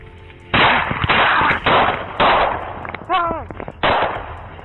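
Loud gunshots boom in a rapid series of about six heavy blasts, close by, with a short radio-like voice squawk between the last shots.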